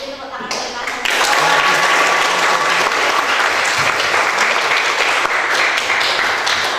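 Applause from a group, likely a classroom, breaking out after a short spoken line and continuing steadily as dense, close clapping to the end, with faint voices mixed in.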